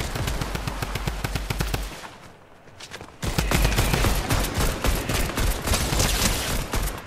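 Rapid automatic gunfire in a shooter video game, loud and close, with sustained bursts, a short lull around the middle, then heavier continuous firing.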